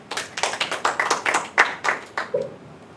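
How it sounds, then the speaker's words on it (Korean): An audience at a panel discussion claps to welcome a speaker, a short burst of distinct handclaps that thins out within a few seconds. "박수로 모시겠습니다."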